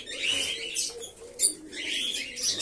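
Male fantail (lakka) pigeons at their morning feeding, with steady bird calls and chirps and a brief flutter of wings near the middle, nearby and fairly constant, with no talking.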